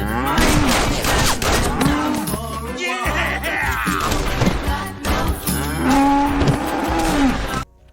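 Cartoon cows in South Park mooing repeatedly, loud drawn-out bellows overlapping one another, mixed with bursts of rapid gunfire, no talk.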